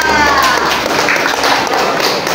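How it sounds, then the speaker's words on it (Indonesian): A classroom of students clapping their hands together, a dense, loud burst of overlapping claps that fades slightly toward the end. "Ya, tepuk tangan, kalian luar biasa."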